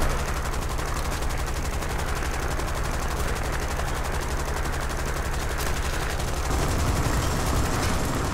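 Gunfire and explosions during an air assault in the video game War Thunder: dense, continuous machine-gun bursts and booming blasts, loud and unbroken, with no talking.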